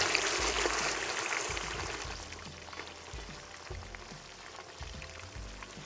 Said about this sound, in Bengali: মাটনটা দিয়ে ফ্রাই করতে হবে আপনাদের।